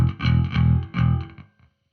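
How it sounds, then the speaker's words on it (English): An electric bass guitar plays a short distorted, effects-heavy phrase of three thick notes that ends abruptly, close and loud. "When I finally got this bass tone together"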